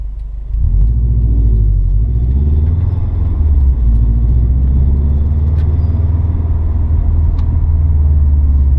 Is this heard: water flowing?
no